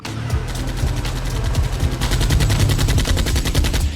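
Rapid automatic gunfire in Roblox rattles loud and close, a dense unbroken burst that grows steadier and heavier in its second half, with no voices.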